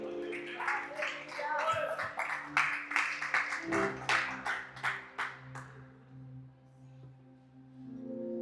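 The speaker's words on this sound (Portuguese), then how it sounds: "Se assente aplaudindo a Jesus." A church congregation claps in a steady rhythmic beat over sustained music and voices, the repeated claps fading out after several seconds while the tones continue.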